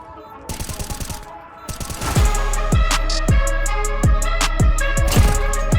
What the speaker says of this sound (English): Okay, some nice shots there at the end.